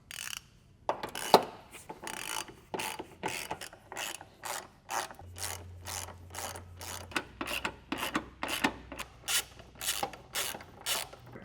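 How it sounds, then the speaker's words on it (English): A ratchet spins repeatedly in quick bursts, snugging subframe locking collar bolts on a Mk5/Mk6 Volkswagen front subframe, the clicking pawl close and clear with a steady rhythm and no talking. "I'm going to go around and tighten them with this ratchet loosely"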